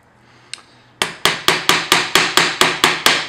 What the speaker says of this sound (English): And I'm just going to hammer, especially around the curve of the hook